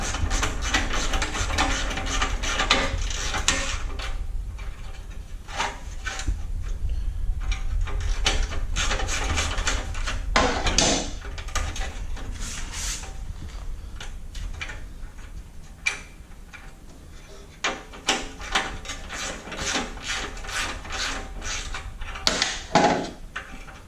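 A 9/16 socket wrench loosens the exhaust crossover pipe bolts beneath a Harley-Davidson Milwaukee-Eight motorcycle, giving a long run of close, irregular ratcheting ticks and clicks with short pauses, no talk.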